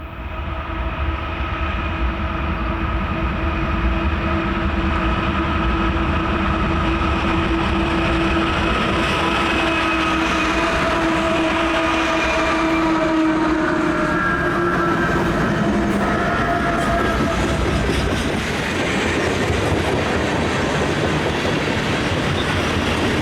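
A southbound freight train descending a 1.4% railroad grade near Mt. Shasta on the Black Butte Subdivision, a loud continuous rumble with wheel clatter and faint squealing tones, sustained throughout.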